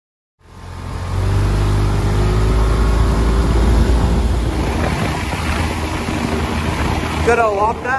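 Boat powered by a Honda outboard motor starting up and running at speed, a loud steady drone with water rushing along the hull, closing with a few high chirps.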